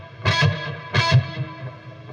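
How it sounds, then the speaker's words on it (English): An electric lead guitar through a lead channel with light chorus, a little reverb and a very quick slapback echo plays two short bursts of distorted notes, each trailing off into ringing repeats. "I've got a little chorus, little reverb, and a super quick slapback."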